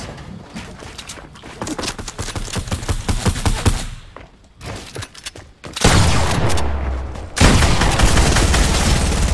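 Rapid SMG gunfire in the video game Fortnite, dense bursts of close, loud shots that keep going for several seconds, with a short lull and then heavier, louder firing.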